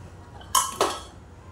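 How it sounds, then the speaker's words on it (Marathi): While Konkani-style egg curry is stirred in a pot, a utensil clinks twice against the pot, two sharp, close metallic taps less than a second apart over a quiet background. "कढी छान अशी ढवळून घेऊया आपण"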